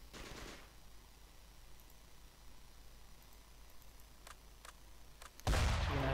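Gunfire in the video game Close Combat: Gateway to Caen, amid mortar and anti-tank fighting: a crackling burst at the start, scattered faint shots over a low hiss, then a sudden loud blast at the end.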